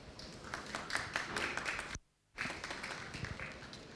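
Faint audience clapping at a climate resilience and energy planning conference session, a soft patter of many hands that drops out briefly before resuming.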